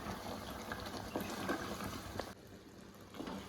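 Butter chicken gravy simmering and thickening in a pan, a steady close bubbling texture with soft pops, quieter toward the end, no voices.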